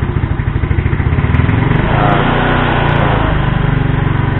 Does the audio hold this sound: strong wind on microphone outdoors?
no